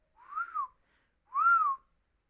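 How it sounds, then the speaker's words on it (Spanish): A person whistles two short rising-and-falling notes, clear and close with a pause between them, alone in a quiet room. "el chiflar"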